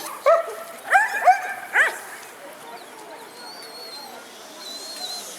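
A female herding dog gives several sharp, close barks and yips in quick succession, then falls quiet, with faint whistles heard afterward.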